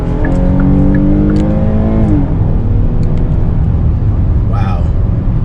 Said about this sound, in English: Wow. Yeah, it's got pretty good pickup.